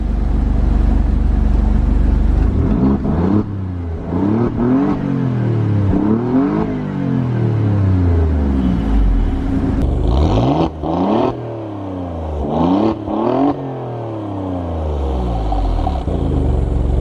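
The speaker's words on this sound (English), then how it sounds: "Now let's do some race mode revs." A 2020 Alfa Romeo Giulia Quadrifoglio in race mode revs hard several times, the engine pitch climbing and falling in repeated loud sweeps, heard up close and continuously for about seventeen seconds.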